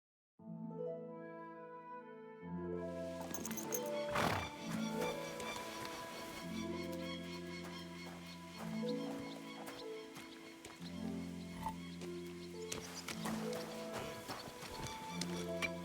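Horse hooves clip-clop with a brief whinny over a continuous layered music score in Kingdom Come: Deliverance II, the game sounds staying steady and moderately loud throughout with no talk.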